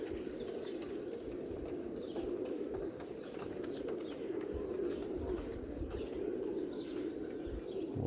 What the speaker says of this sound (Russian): Ухом слышу, что голубь где-то бьет